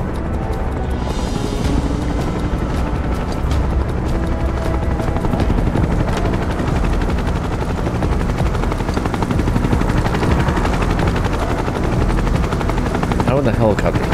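A helicopter drones steadily in the Final Fantasy VII Rebirth video game, a loud continuous rotor thrum with gunfire-like crackle and voices mixed in throughout.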